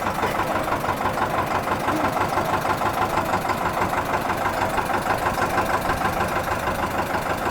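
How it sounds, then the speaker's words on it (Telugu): An Eicher 312 tractor engine idles steadily nearby, a loud continuous rumble with a rapid knocking pulse and no voices. "ట్రాక్టర్."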